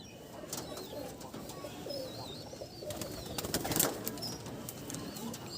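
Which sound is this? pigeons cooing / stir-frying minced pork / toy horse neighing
pigeons cooing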